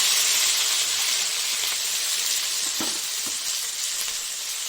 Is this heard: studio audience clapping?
no